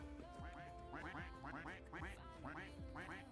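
Cartoonish duck quacks from the Roblox game Duck Army, a repeated chorus of short bursts arriving in clusters of two or three, loud and close over a steady game-music bed.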